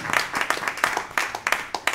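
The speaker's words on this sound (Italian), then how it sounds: "vi applaudiamo per questo" At a road-safety conference in Rome, an audience claps in a loose, uneven patter of individual hand claps, fairly close and moderately loud.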